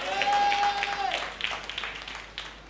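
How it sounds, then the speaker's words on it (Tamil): A congregation at a Sunday church service breaks into loose, uneven hand clapping after a brief sustained tone, with the claps fading toward the end. "கைதட்டு, கர்த்தர் உனக்கு பலன் அளிப்பார்."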